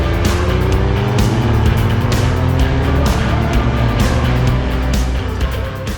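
2026 Dodge Charger R/T Blacktop with a 420-horsepower engine driving hard on a track, a loud close engine drone rising and falling through gear changes, heard alone without talk.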